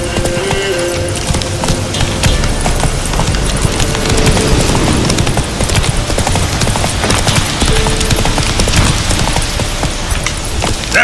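Galloping horse hooves in The Witcher 3 video game, a steady rapid clip-clop rhythm running loud and continuous throughout, with game ambience layered underneath.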